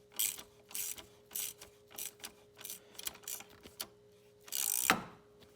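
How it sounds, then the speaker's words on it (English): Quiet, repeated ratcheting clicks come from adjusting the belt tensioner pulley on a 1994 Mercedes C280 serpentine drive. The short mechanical bursts arrive in an irregular rhythm, close by, ending in a slightly longer ratchet pass. "That means I'm adjusting the tension on this pulley."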